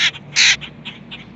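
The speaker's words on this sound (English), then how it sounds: "That little baby bird's angry." An angry baby bird gives loud, close, harsh caw-like calls, two strong bursts followed by several shorter, fainter squawks in quick succession.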